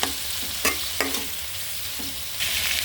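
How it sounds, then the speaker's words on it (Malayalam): Chopped onion and tomato fry in a pan after mustard seeds have popped, for a snack made from leftover idli: a loud, steady sizzle broken by a few scraping stirs, with no voices. "ഇത് നന്നായിട്ടൊന്ന് ഇളക്കിയിട്ട് അത്യാവശ്യം നന്നായിട്ടൊന്ന് വെന്ത് വരട്ടെ കേട്ടോ"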